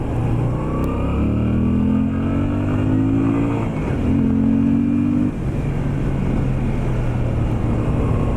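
A Moto Guzzi V7 III motorcycle engine pulls through the gears with a loud, steady rising drone, a brief dip at a shift, then climbs again, heard close while riding.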